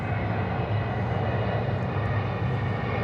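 A Delta airliner at Atlanta Hartsfield-Jackson International Airport fills the air with a steady, loud jet engine roar that holds evenly throughout, with no talking.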